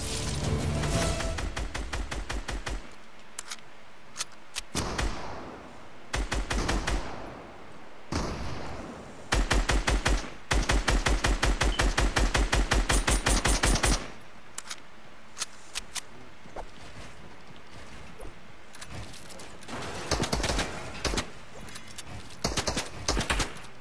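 Rapid bursts of gunfire from a weapon in the video game Fortnite, loud and close, with dense runs of shots broken by brief pauses and scattered single cracks, no voices.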